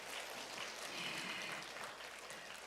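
Parents at a school orientation lecture give the lecturer a round of applause. The clapping is faint, steady and continuous for a few seconds, with no voices over it.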